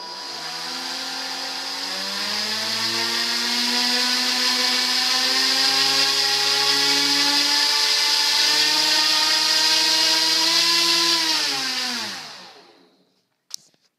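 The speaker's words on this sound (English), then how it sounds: "this fan is from an 18-volt drill, and it's really powerful with 12 volts" A small fan motor from an 18-volt drill, run on 12 volts, whirs at high speed with a steady, strong whine for several seconds, then spins down and stops.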